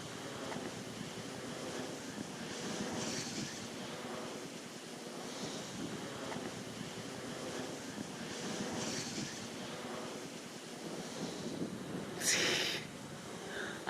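Ocean waves wash against the coast near Albany, a steady roaring surf rising and falling in slow swells, mixed with wind buffeting the microphone and a brief sharper splash near the end.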